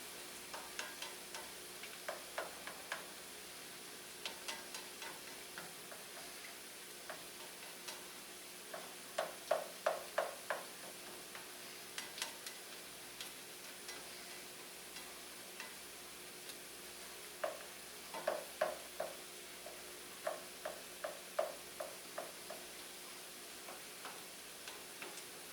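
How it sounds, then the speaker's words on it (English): A spatula works egg around a hot pan for fried rice, with a faint, steady sizzle under repeated quick scraping ticks that come in irregular clusters, close but quiet. "And then just work the egg around with your spatula"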